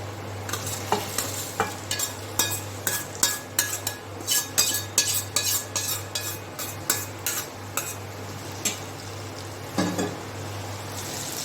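Paneer is folded into a simmering butter masala gravy, and a spoon scrapes the pan in a quick series of clinking strokes over a soft, steady sizzle, all close and with no talking.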